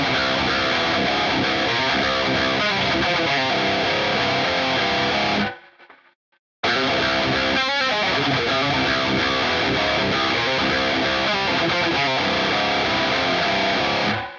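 Distorted metal guitar riff, thick and loud with palm-muted chugs and power chords, stopping for about a second of silence midway and then driving on to the end.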